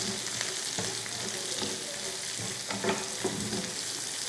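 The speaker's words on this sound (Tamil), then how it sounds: "இதில் நம்ம கையில் ஒரு கைப்பிடி அளவுக்கு முட்டைக்கோஸ் அதையும் லைட்டாக வதக்கிடுங்க." A handful of shredded cabbage sautéing in a pan while it is stirred, giving a continuous close sizzle with scraping and clinking from the stirring.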